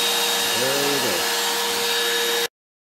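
Whining power tool cutting a groove in a swim ladder part, a steady loud high-pitched drone that dips briefly in pitch under load midway, then cuts off abruptly after about two and a half seconds.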